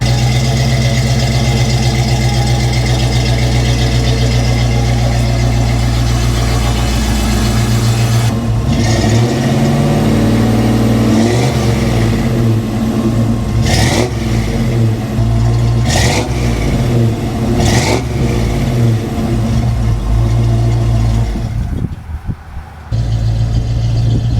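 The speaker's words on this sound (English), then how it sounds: "We'll back it out, let it warm up, throw a little RPM at it." A Land Rover LR4 engine warms up after being backed out, holding a loud steady idle close by, then revving repeatedly in several rising and falling bursts before settling.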